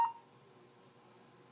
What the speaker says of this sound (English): You mark every time it beeps.